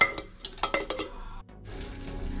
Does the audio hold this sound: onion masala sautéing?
yes